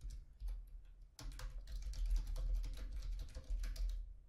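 Rapid clicking keystrokes on a computer keyboard while writing Pygame code, a close, steady patter of taps with brief pauses and no voices.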